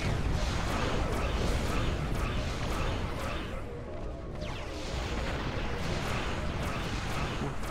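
Rumbling explosions from a high-yield torpedo strike in a Star Trek space combat game, repeated heavy booms and weapon blasts over a constant loud roar of battle noise.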